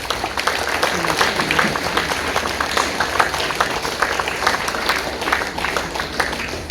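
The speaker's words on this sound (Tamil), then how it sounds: "கைத்தட்டுங்க அவருக்கெல்லாம்" Sustained, lively applause from a large audience at a Tamil speaking event, many hands clapping in a dense, even stream for several seconds.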